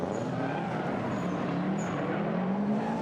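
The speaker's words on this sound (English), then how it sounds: "You can hear it bog down. Those boxer engines, the flat four, they sound so cool." Flat-four boxer engine of a gymkhana car bogging down during a competition run, a steady loud broadband roar with a low droning tone and faint tire noise, continuous throughout without speech.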